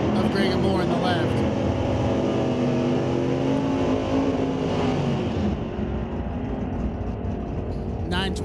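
Super stock cars launch at an NHRA Canadian SPORTSnationals drag race, one of them a 2013 factory super stock Camaro, their engines screaming loudly with climbing revs before the roar eases off, while an announcer talks over it.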